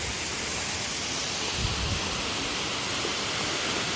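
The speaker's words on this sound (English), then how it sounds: "That's a pretty big waterfall" A large waterfall roaring in a steady, dense rush of water, loud and continuous throughout, with a brief low gust of wind partway through.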